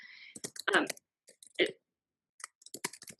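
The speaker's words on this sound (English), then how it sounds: "Is someone typing there?" Scattered keyboard typing clicks come in short bursts, faint and intermittent, with quiet gaps between them.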